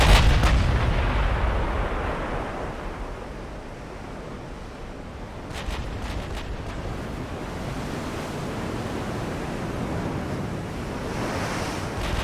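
Battleship guns firing in the naval warfare game Ultimate Admiral: Dreadnoughts, a heavy boom at the start fading into a sustained roar of sea and wind, with further muffled blasts later.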